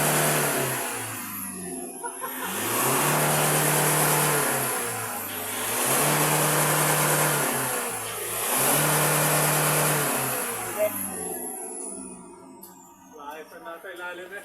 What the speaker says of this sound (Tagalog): tapos na ang remap. Titingnan natin ang hatak ng makina.